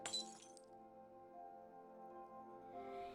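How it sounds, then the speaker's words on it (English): In the video game Virche Evermore, a dagger breaks through a window pane with a sharp glass crash, then tinkling shards fade under a sustained musical tone. "He broke through a part of the glass with his dagger to unlock the window from the inside."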